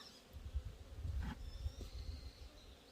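Faint buzzing of honeybees at a hive drifting past over a low, rumbling background hum, with a brief closer pass in the middle.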